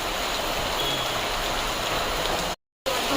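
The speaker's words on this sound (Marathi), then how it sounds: "पाऊस थांबला नाही पाहिजे, कंटिन्यू पडायलाच पाहिजे." Steady rain of the season's first downpour falls in an outdoor yard, a dense, even hiss of drops on surfaces that continues without a break and has no talking over it.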